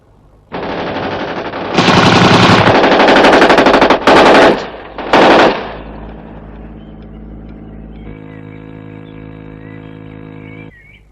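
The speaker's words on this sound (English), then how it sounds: "Small caliber automatics by the sound of them." Bursts of small caliber automatic gunfire from a 1967 TV series, loud and rapid, with sustained volleys and short pauses, trailing off into a lingering mechanical hum.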